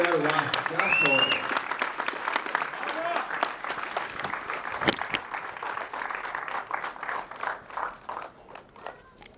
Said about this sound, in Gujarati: અંકિત ભાઈ માટે બહુ જ બધી તાળીઓ માંગીશ